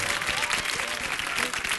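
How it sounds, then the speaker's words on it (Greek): Studio audience applause on a Greek television show after a dance performance, a dense steady wash of clapping from a crowd, close and fairly loud, with voices faintly mixed in. "Κι άλλο χειροκρότημα, παρακαλώ!"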